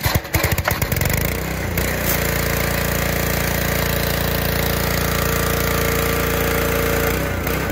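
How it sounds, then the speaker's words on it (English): A pressure washer with a new gun and nozzle starts with sputtering bursts, then settles into a loud, steady engine drone and spray hiss, close by and without talk. "reviewing this new nozzle for power washer. Sprays great."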